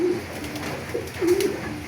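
Young racing pigeons coo nearby, with two short, throaty coos a second apart over a soft background murmur.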